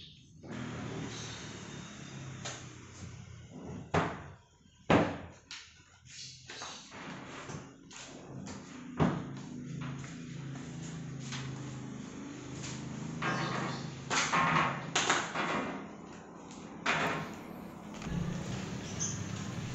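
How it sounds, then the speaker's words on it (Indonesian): Drawer doors are fitted to an aluminium-frame industrial closet, producing a long stretch of sharp metallic taps, clicks and knocks at irregular intervals over a low room hum, close and fairly quiet, with no talking. "Sebelum pemasangan kaca, kita pasang dulu untuk daun pintu bagian drawernya."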